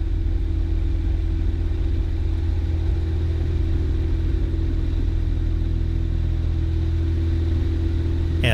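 A small single-engine airplane runs at full throttle with brakes held for a short-field takeoff, giving a loud, steady propeller-engine drone with a constant low hum and no break through the whole stretch.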